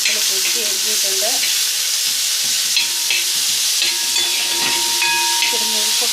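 Apple pieces frying in a pan with shallots for apple pachadi, a steady loud sizzle with faint stirring scrapes throughout, no talk.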